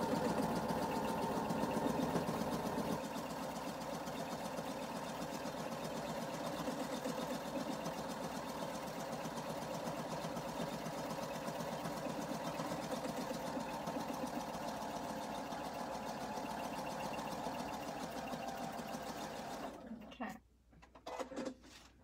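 A sewing machine stitches a quilt-as-you-go Christmas stocking in one long, steady mechanical hum with a fine rapid needle pulse, close and even, then halts near the end with a few brief handling clatters.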